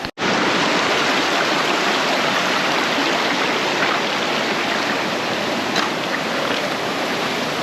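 A jungle waterfall in Jamaica roars with a constant, loud, dense rush of falling water, heard close up and without a break.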